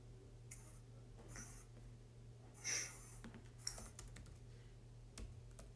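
Faint, sparse taps of typing on a computer keyboard, a few soft keystroke bursts spread over a quiet background hum.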